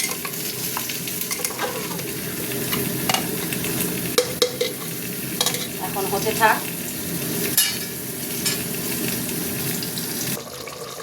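Curry spiced with Kashmiri chilli bubbles and sizzles in a pan on the stove, a steady simmering hiss with occasional stirring clinks and short bubbly bursts, nearby and fairly quiet, with a brief spoken remark.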